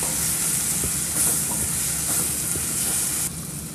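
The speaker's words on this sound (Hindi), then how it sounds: "अदरक लहसुन और मिर्च का पेस्ट है इसे डाल देते हैं 1 चम्मच" Ginger, garlic and chili paste frying in a pan with garam masala and coriander powder for an aloo shimla mirch sabzi, heard as a constant loud sizzle with occasional stirring scrapes.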